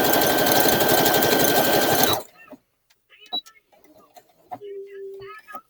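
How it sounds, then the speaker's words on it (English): Brother CS-6000i sewing machine stitching with a fast, steady mechanical whir and clatter that stops abruptly after about two seconds, followed by quiet handling clicks and a brief tone, close to the microphone. "You gotta let it finish stitching."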